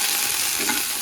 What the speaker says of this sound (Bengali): এরপরে যে আলুগুলো দিয়ে দিলাম